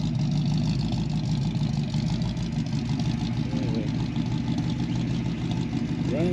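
A 1966 Ford Mustang GT V8 idles after a cold start on a chilly, damp morning, a steady, loud, low burbling rumble that holds throughout, with one brief spoken word over it.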